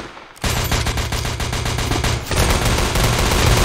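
Gunfire in the Roblox game Liberty County as rapid automatic bursts with an even, fast rhythm, loud and continuous for several seconds, a second weapon taking over partway through, with no talking.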